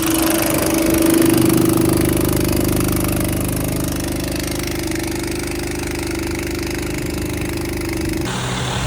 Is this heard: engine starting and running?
yes